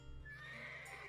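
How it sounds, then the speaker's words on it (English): A horse whinnies in a single drawn-out neigh with a rising, wavering tone, heard close and fairly quiet while being ridden, with faint hoof movement beneath. "the horse is having fun"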